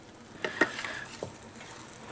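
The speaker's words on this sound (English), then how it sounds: "it's still boiling like crazy" Thick strawberry jam bubbling at a rolling boil in a pot, with sparse soft pops and splutters breaking over a quiet background.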